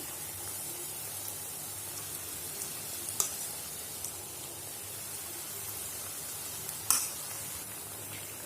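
Pakkavada batter frying in hot oil for a tea-shop style snack, a steady soft sizzle throughout with a couple of brief clinks or scrapes.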